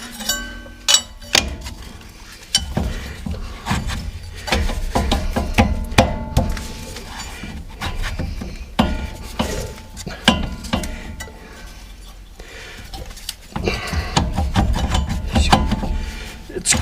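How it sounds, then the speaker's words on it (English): A brake caliper on a Lincoln or Ford front suspension being worked back into place, with irregular metallic clanks, scrapes and knocks of close hand work, some sharp bangs among softer rubbing. "I've got to maneuver this caliper back in place"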